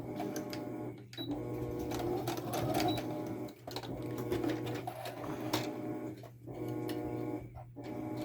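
A sewing machine back-stitches a seam on a snap bag in short bursts of quiet mechanical whirring, broken by several brief gaps between passes.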